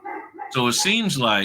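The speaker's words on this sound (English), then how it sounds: "Sorry about my dog, my grand dog in the background." A dog barks in the background of a room while someone talks over it, its yips and barks mixing with her voice at moderate volume.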